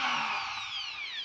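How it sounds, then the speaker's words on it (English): An electric drill whines as it spins the starter head of a 47cc V12 model engine, a steady high-pitched motor drone that holds close and loud throughout without any voices. "Use an electric drill to start."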